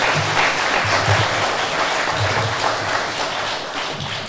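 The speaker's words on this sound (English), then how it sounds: "Let's have one last round of applause for all of our candidates that spoke tonight." An audience at a candidates forum gives a steady round of applause, a sustained wash of clapping from many hands that carries on for over four seconds with little talk.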